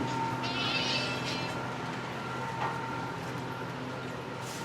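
A cat meows a few times against steady background noise and a low hum, the calls fairly faint and short, in the Dharavi slum, Mumbai.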